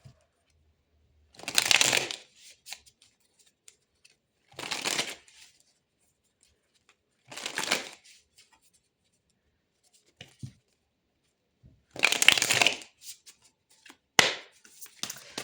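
Tarot deck being shuffled in four separate bursts of card riffling, each a couple of seconds long with quiet pauses between, close and fairly crisp, with no talking.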